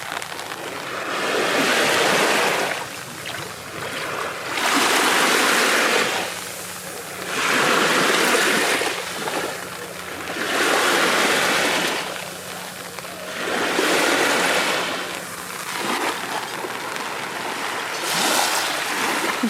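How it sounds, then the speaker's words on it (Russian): Sea waves roll in and wash back on a rainy shore in a slow repeating rhythm, each surge swelling loudly and then fading, with a constant hiss beneath. "И это море."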